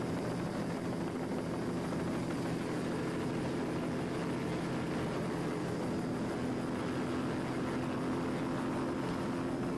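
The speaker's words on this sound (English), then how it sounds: "Overactive is a 1991 activator powered by a single 550 horsepower inboard." A 1991 Activator race boat with a single 550-horsepower inboard engine roars steadily and loudly throughout, a constant droning engine note at an offshore powerboat race on a bay.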